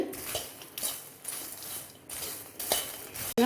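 Roasted makhana (fox nuts) tossed with masala in a pan after the heat is turned off, a metal spoon scraping and clinking against the pan in steady bursts, close and clear, ending in a sharp metallic knock.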